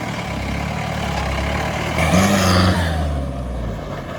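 A Mahindra Bolero 4x4 crawls off-road over rocks, its engine giving a steady, close, low rumble that swells and strains briefly in the middle before easing back.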